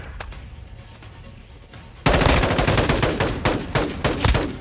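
Rapid automatic gunfire from a Fennec submachine gun in a first-person shooter game bursts in suddenly and keeps rattling loud and dense for over two seconds.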